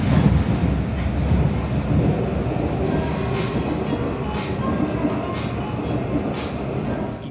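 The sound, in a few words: inside a moving Seoul subway train car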